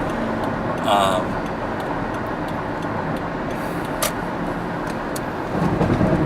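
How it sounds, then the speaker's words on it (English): Los Angeles road traffic flows past as a steady, fairly loud broadband rumble of cars, with a brief sharper passing sound around the middle. "LA traffic."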